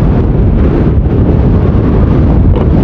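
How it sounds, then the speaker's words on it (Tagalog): Strong wind of about 45 kilometers per hour buffets the microphone with a loud, continuous low roar and rumble, no other sounds standing out. "Ang lakas ng hangin"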